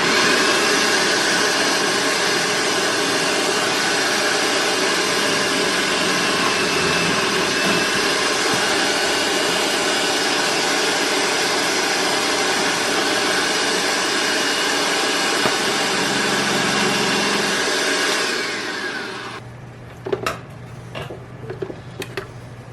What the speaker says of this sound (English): slice these in the food processor with the slicing blade on